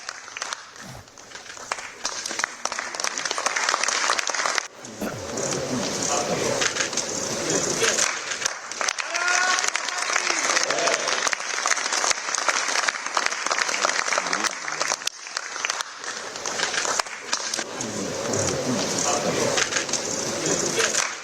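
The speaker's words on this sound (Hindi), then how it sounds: "दिखाइए जरा कैसे तालियों की गड़गड़ाहट से स्वागत हुआ है इनका।" Thunderous applause welcomes C.P. Radhakrishnan at an event in Delhi, a dense, sustained crowd clapping close and loud for about twenty seconds, briefly dipping and rising again, with some voices mixed in.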